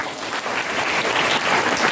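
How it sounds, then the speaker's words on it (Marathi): An audience at a Shivaji Maharaj Jayanti event applauds a guest speaker, a dense, even wash of clapping at moderate distance lasting the whole moment, with no voices over it. "सरांसाठी एकदा जोरदार टाळ्या."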